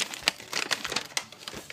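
Paper sheet being handled and unfolded, a short burst of crinkling and rustling with several crisp crackles close up, with no voices.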